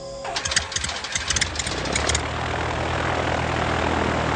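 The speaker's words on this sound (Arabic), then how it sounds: "أعتذر عن الطائرة غير الأنيقة يا جين" An airplane engine cranks over and catches in a Disney Tarzan cartoon. A burst of stuttering mechanical clatter settles into a steady, loud propeller drone that fills the rest of the clip.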